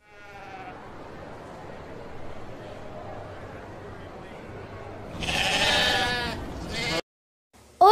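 Sheep bleating in several loud, wavering calls late on, with a faint bleat at the start, over a steady buzzing background.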